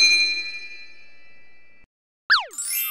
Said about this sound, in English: And do not forget to press the bell icon.